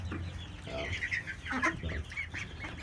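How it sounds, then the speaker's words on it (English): Brahma chickens cluck and chatter continuously inside a brooder house, several birds calling over one another at close range with no talk. "We have an additional, I believe it's 8 chickens. They're called Brahmas."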